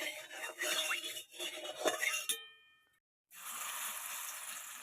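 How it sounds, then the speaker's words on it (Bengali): Metal clangs as a heated wok is set on the stove, a bright ringing tone dying away into silence, then a steady soft sizzle as oil goes in. "এবার কড়াটা বসিয়ে দেব, হচ্ছে কড়া গরম হয়ে গেছে"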